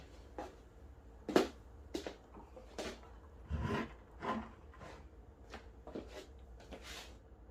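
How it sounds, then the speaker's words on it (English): An air fryer drawer slides shut over lemon and herb chicken thighs: a few soft scrapes and light knocks, then one sharper thump and a rubbing slide, close and fairly quiet. "Now we're going to close the door and continue the rest of the time of cooking."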